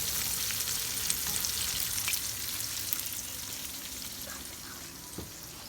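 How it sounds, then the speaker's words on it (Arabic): Bisaria, small fish frying in hot oil, a soft continuous sizzle and crackle with faint scattered pops, steady throughout at moderate distance. "ودي البسارية وهي في الزيت"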